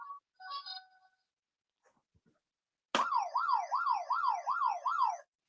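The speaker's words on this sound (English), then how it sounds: "I was going to say should we test your buzzers, but they both seem to work" Pub quiz buzzers are tested, a few short electronic beeps followed by a loud warbling siren-like buzzer tone that rises and falls rapidly for a couple of seconds.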